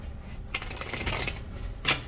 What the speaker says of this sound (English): Let me just shuffle this one time.